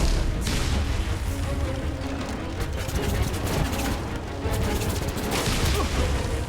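Confringo blasting spells in a Harry Potter video game, dense rumbling explosions and crackling bursts rolling continuously, with a couple of stronger blasts standing out amid the dense game din.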